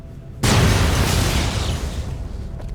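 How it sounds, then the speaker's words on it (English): A grenade blast in Fallout: New Vegas erupts as a single loud, close boom that hits suddenly and then rolls off into a long fading rumble, with no voices over it. "Grenade!"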